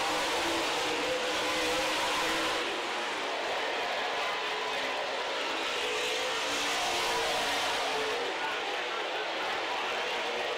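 Modified race cars in a heat race at Amsoil Speedway run around the oval, their engines a steady, distant roar under a dense crowd-like wash of noise.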